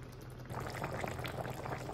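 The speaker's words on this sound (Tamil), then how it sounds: "இப்போ சிக்கன் வந்து நல்லா தண்ணி கக்கி எண்ணெயும் கொஞ்சம் கக்கி நல்லா வேக ஆரம்பிச்சிச்சு" Marinated chicken in a yogurt-based creamy gravy bubbles on a low to medium flame, a steady close simmer of popping liquid that starts abruptly after a quiet half second and continues evenly.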